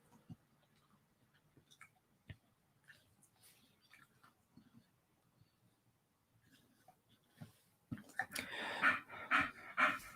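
A hot dog panting close by, quick rhythmic breathy huffs that turn louder and more rapid toward the end.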